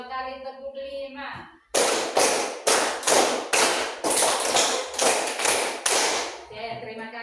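A group of prospective teachers claps in unison, a short burst of sharp claps in counted rhythmic patterns, loud and close, with voices speaking briefly in Indonesian before and after.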